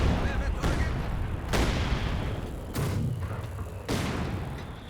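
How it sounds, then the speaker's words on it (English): Mortar rounds pound a reinforced bunker in Company of Heroes 2, with several heavy booming impacts spaced over a few seconds above a steady rumble of battle. "Mortars though making pretty short work of that reinforced bunker"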